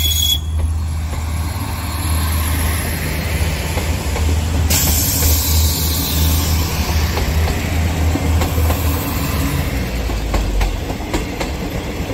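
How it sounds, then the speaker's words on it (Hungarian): Three coupled railcar units running together as a Hungarian passenger train pass close by with a loud, steady rumble, wheel clatter over rail joints and a bright whine, continuous for the whole stretch with no talk. "amikor 3 egységúsdi összekapcsolva halad személyvonatként"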